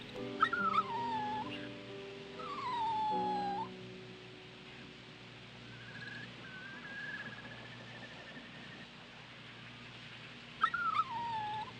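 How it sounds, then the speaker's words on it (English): A brown puppy whimpering in the Rule of Rose video game, several thin high whines with falling pitch spaced apart over quiet ambient game music. "Oh, it's a puppy."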